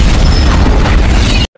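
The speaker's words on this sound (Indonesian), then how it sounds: "Mobil yang ditumpangi jenderal hancur meledak" A car carrying a general blows up in an action film, a loud, dense broadband blast that fills the clip for about a second and a half before cutting abruptly to silence.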